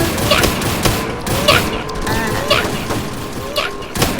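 Gunfire in a Roblox video game, with sharp shots repeating roughly every half second along with mechanical clicks, while a player talks excitedly over the shooting.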